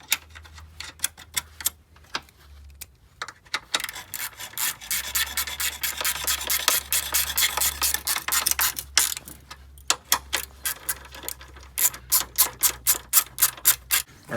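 Bolts being threaded and tightened back onto a car's strut tower brace, a run of close, rapid ratcheting clicks and scraping bursts separated by short pauses, ending in an even rhythmic series of clicks.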